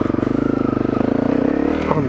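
Honda CRF250L dirt bike engine chugging steadily up close on a wooded trail ride, a throbbing low pulse that swells slightly toward the end.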